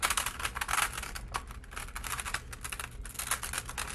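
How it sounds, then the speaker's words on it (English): A sheet of paper being folded accordion-style, with crisp rustling and quick crackling creases in bursts, close and fairly loud, no voices. "I can kind of do what's called an accordion fold"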